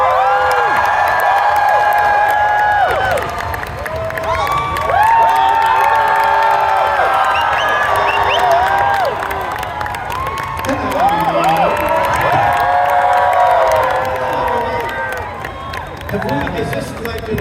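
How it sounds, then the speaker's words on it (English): A Comic-Con crowd in Los Angeles cheers, whoops and claps for the Hobbits at a panel, a loud sustained roar of many voices with scattered shouts and applause throughout. "please give a round of applause to the Hobbits"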